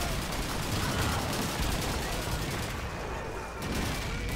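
Call of Duty 2 battle sounds fill the scene with dense, continuous gunfire and rumbling blasts, thought to include a grenade explosion. The noise is loud and steady, and a voice sits faintly under the din.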